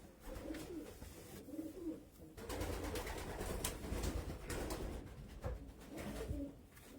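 Racing pigeons coo in a loft, with soft, rolling calls repeating close by and overlapping almost continuously under a bed of rustling background noise.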